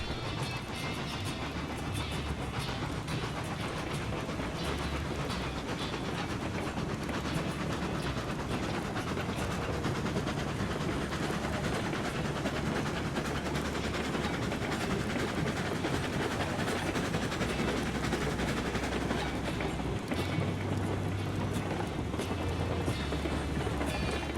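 A freight train rolls along in the railway game Railroads Online, a dense, continuous rumble and clatter of wheels and cars that stays loud and steady the whole time.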